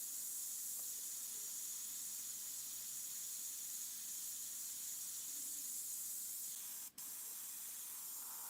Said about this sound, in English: I'm going to mist this over here and just kind of work it